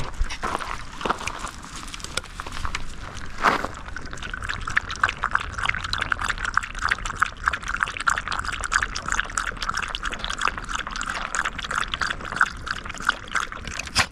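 Water pours and trickles for a dog at a roadside rest stop, a steady splashing stream lasting many seconds with small irregular drips and rattles.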